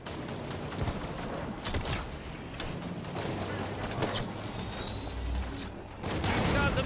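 A Phaeton gunship attacks during a Halo 5 campaign battle: a dense, continuous wash of mechanical clatter and rapid weapon bursts, loud throughout, with a thin rising whine and a heavier swell near the end.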